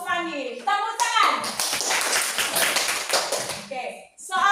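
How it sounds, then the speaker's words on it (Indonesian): Children in a classroom clap their hands in a short burst of quick, scattered claps, framed by a voice speaking before and after. "Tepuk tangan."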